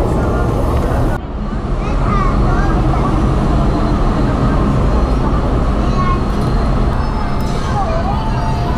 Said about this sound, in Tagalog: Isang tren lang ito na maghahatid sa mga papunta sa Disneyland.